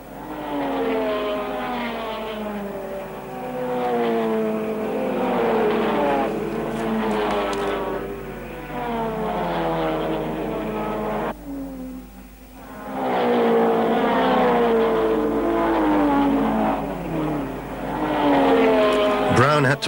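Early-1950s sports cars race past, among them a Frazer Nash Le Mans Replica and a Jaguar C-Type, their engines droning and rising in pitch in long sweeping passes under steady commentary.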